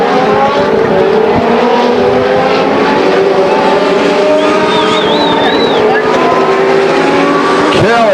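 Legends race cars roar around Stockton 99 Speedway, a loud, continuous multi-car engine drone with shifting pitches and a car sweeping past near the end, while an announcer talks over the action.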